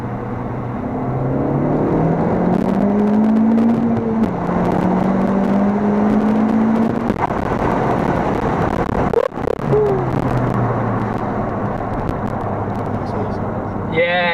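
FK8 Honda Civic Type R under hard acceleration: a steady, loud engine drone rises in pitch through the gears with short shift breaks, a continuous roar from inside the car with some road noise.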